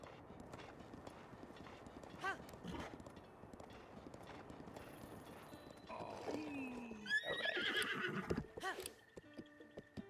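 Horse sounds from The Legend of Zelda: Breath of the Wild: steady clip-clopping hooves, then a loud, close whinny in the second half, with synthetic game-like textures around it.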